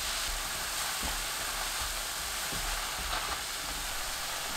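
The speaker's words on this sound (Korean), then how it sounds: "달군 팬에 팽이버섯 넣고 중불로 1분 20초 볶아주세요" Enoki mushrooms stir-fried over medium heat in a preheated pan, a dense continuous sizzle with a few soft stirring scrapes, close and even, with no talking.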